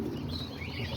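Soft, low cooing from pigeons kept in a backyard loft, faint and continuous under light ambient noise, with no voices.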